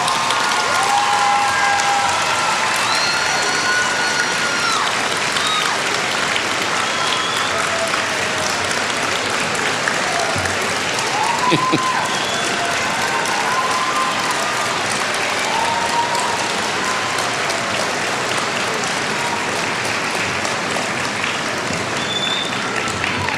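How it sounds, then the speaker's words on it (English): Large university commencement audience applauds steadily and loudly for a long stretch, dense clapping with scattered voices and cheers mixed in. "please stand, look outward, and start clapping"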